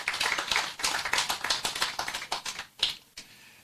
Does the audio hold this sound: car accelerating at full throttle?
no